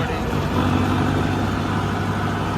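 A farm tractor engine runs at idle with a steady, loud, continuous rumble close by, and nothing else breaks through.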